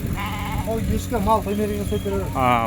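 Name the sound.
sheep bleating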